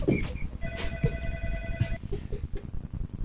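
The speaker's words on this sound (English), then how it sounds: "your phone's ringing in your office." An office telephone rings with a short electronic tone burst, heard a little distant beneath room noise and a few soft knocks.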